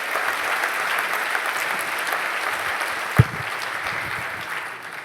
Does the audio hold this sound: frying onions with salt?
no